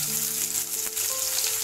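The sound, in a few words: sliced onion frying in hot oil in a pan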